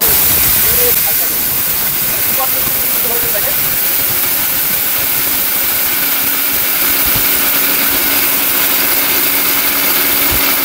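Powerful electric blender runs at high speed, a loud continuous roaring whir with a hissy edge that holds steady throughout.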